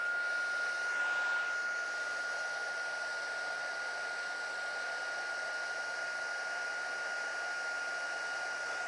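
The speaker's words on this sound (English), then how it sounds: "let's get my embossing tool" A heat embossing tool blows hot air for several seconds in a steady, even whoosh with a constant high whine running through it, close and fairly quiet, with no talk.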